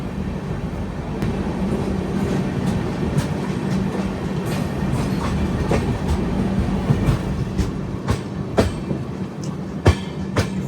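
An Indian express train runs along the tracks with a steady loud rumble, its wheels giving repeated sharp clicks over rail joints throughout and no voices.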